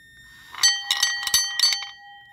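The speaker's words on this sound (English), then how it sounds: "each ball will roll down and smack the bell" Metal balls inside a Warn mechanical backup alarm, spun slowly by a drill, strike the bell in a quick run of bright, ringing dings that sustain and then fade to quiet.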